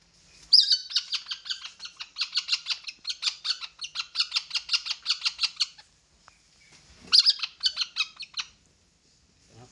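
A hungry young bird, a copino raised by hand, calls loudly and close up in rapid rhythmic bursts of harsh squawking chirps, one long run of begging calls followed after a short pause by another brief burst.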